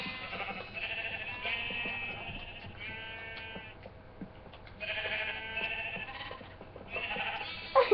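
Sheep bleat repeatedly at close range, several drawn-out calls in overlapping bursts with short pauses between them.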